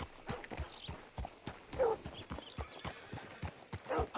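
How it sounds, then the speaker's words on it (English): Steady clip-clop of horse hooves in Red Dead Redemption 2, a rhythmic series of close, moderately quiet hoofbeats with a brief snort or whinny mixed in, no talking. "Hitch your horse up here."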